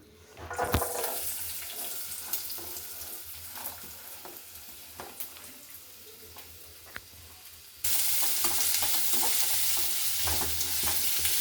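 Chopped onions and green chillies fry in about three spoons of oil, a close steady crackle with spatula scrapes and taps that swells into a much louder, dense sizzle near the end.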